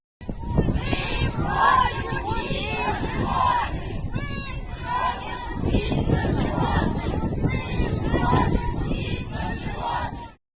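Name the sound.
crowd of protesters chanting in a street in Novosibirsk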